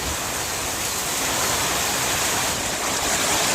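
Hurricane Milton's wind and high water roar outside in Plant City, Florida, a loud, constant broadband rush like a stream or heavy surf, unbroken and steady throughout.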